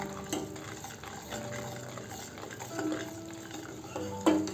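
Sugar syrup being stirred in a pan with a spoon while it dissolves, a steady soft scraping and liquid swirl with faint sizzling underneath and a sharper clink of the spoon near the end, close and fairly quiet.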